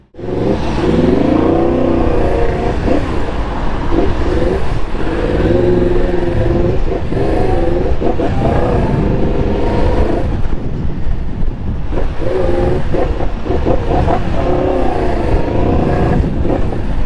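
A Yamaha MT10 motorcycle with a check-engine fault ridden through traffic. The engine drones and revs continuously, and heavy wind buffets the microphone the whole way.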